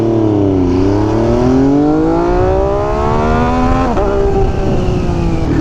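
An MV Agusta Superveloce motorcycle fitted with an SC Project exhaust pulls away loud and close. Its engine note climbs steadily in pitch, dips briefly at a gear change, then keeps rising.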